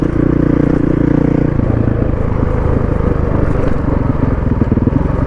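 Adventure motorcycle riding a gravel off-road route in the countryside, its engine a steady, loud drone with rattling clatter from the loose surface throughout, the tone shifting slightly early on.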